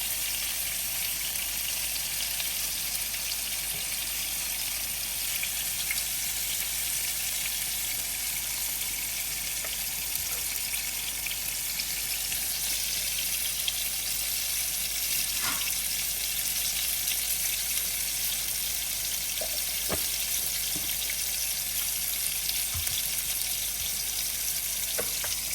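Salmon frying in butter in a pan, a steady, close hiss and crackle of sizzling fat that holds evenly throughout, with a few faint clinks and no talking.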